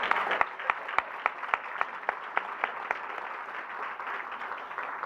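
Applause from the audience at a Martin Luther King Jr. memorial breakfast, scattered distinct claps over a soft clapping bed that gradually thins, moderately quiet and heard from across the room.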